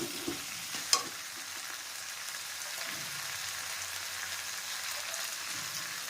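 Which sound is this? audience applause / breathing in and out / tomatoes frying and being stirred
tomatoes frying and being stirred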